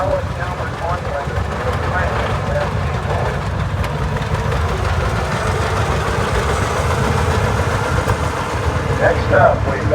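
A vintage tractor's engine rumbles steadily in a tractor parade at the National Oliver Show in Boonville, Missouri, pulling a 4-row Allis Chalmers 100. The low drone continues throughout while an announcer talks over it.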